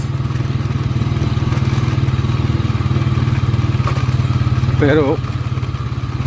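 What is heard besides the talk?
motorcycle being ridden on rough streets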